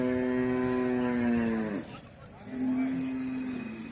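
Cattle at the Melur market low with one long, loud, sustained moo that breaks off, then a second moo rises after a short pause, close and clear over faint crowd murmur.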